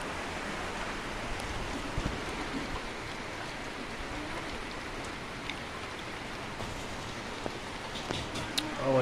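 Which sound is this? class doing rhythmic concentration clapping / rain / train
rain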